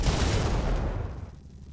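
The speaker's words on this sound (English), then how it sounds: "There's still explosions near the LTD." Explosions rumble near a burning police LTD sedan in GTA V's FivePD mode, a loud, dense low roar of blasts and crackling debris that slowly fades over under two seconds, with no voices.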